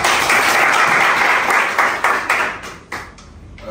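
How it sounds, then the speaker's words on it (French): Applause from an audience at a Drip or Shit fashion judging event in Pointe-Noire, Congo: dense, loud clapping that thins into scattered claps near the end. "j'aimerais qu'on applaudisse pour lui"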